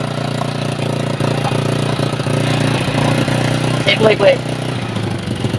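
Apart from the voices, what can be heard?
Rusi TC125 motorcycle engine running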